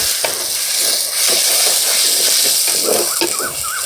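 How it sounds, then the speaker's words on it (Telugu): Ginger garlic paste sizzles loudly in a hot pan with chicken for Lingapuram-style country chicken curry, a steady frying hiss with stirring scrapes throughout, close and alone. "అల్లం తెల్లగడ్డ పేస్ట్ వేసుకుందాం"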